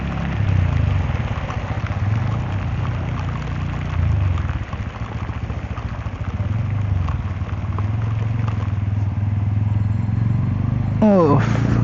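A motorcycle rides through a flooded street in heavy Dhaka rain. A steady low engine drone continues under rushing water and rain noise, and someone talks over it throughout.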